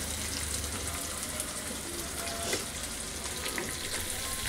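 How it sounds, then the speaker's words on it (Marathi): Chopped onion fries in a pan for potato bhaji, giving a steady, soft sizzle that hisses continuously throughout with faint crackles and no talking. "आता कांदा पण टाकते चांगला लालसर भाजण्यासाठी"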